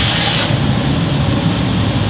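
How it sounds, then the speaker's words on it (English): PChrome cleaner sprays in a loud, close burst of hissing aerosol, the bright spray cutting off after about half a second and leaving a rough rubbing noise. "Like you spray it, now, whoop, there it goes."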